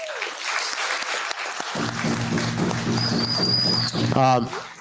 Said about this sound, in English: let's give our beautiful graduates a big round of applause.